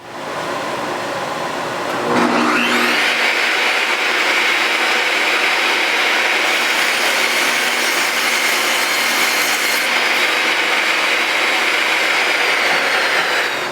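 A power saw spins up with a rising whine, then cuts off the curved cove decorative edge of a wooden board, giving a loud, steady, close howl that holds for over ten seconds.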